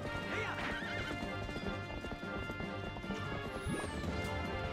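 Horse hooves clip-clopping at a gallop with repeated neighs and whinnies in Zelda: Twilight Princess, loud and continuous over game music and effects.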